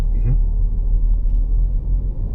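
A 2024 Ford Focus 1.5 EcoBlue Titanium sedan accelerates on the road, heard from inside as a steady, loud, low engine and road rumble that fills the short clip.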